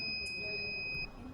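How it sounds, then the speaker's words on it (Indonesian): A smart door access system's electronic buzzer sounds a steady, shrill two-tone beep for about a second, loud and close, then cuts off, leaving quiet room noise behind. "Dia akan menggunakan bunyi yang berasal dari buzzernya."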